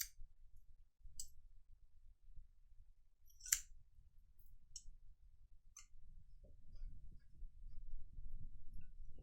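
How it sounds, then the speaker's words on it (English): Scissors trim the fabric tabs on a metal-toothed zipper during a sewing project, giving a few sharp, isolated snips spaced apart over a quiet background. "trim the tabs to be the same width"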